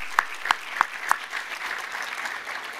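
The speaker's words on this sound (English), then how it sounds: "Let's give him another round of applause as well." Applause from an audience at a civic event with the Los Angeles mayor, a few sharp distinct claps at first, then a softer continuous patter of hands from a modest crowd.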